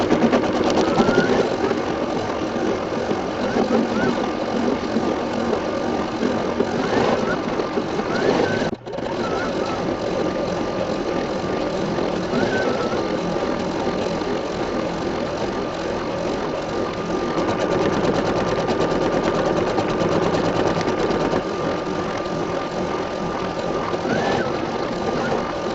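A home embroidery machine stitches a small 4x4 St. Patrick's Day pot-of-gold rainbow design in light gray thread, a steady close mechanical whirring hum with a rapid rhythmic needle patter running continuously, with one brief dip partway through.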